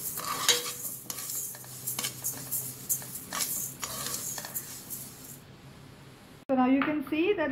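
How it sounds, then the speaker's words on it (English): Flax seeds dry-roast in a pan with no oil, crackling and popping as a utensil stirs continuously with scraping sounds, close and steady, before a voice speaks at the end. "a little crackling sound. Just do a continuous stir so that it does not burn"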